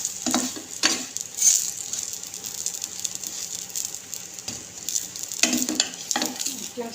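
An aloo kulcha frying in ghee on a tawa, a soft continuous sizzle with a few scraping, pressing touches of a spatula, close and moderately quiet.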